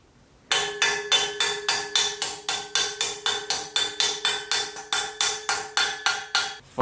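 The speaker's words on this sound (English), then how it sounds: "I'm gonna put them in with a fucking profile racing crank arm" BMX bottom brackets driven into a custom bike frame with a Profile Racing crank arm, struck about three times a second in a sharp, even run of close metallic knocks after a brief quiet start.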